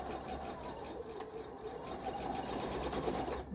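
A sewing machine stitches a quilt seam for an Interwoven Star block, running steadily and close with a fast, even mechanical whir throughout.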